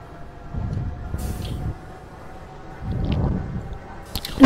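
A steam turbine spinning in the Roblox game Industrialist, giving a soft rhythmic whooshing hum that surges in two waves against quiet background noise, with no talk.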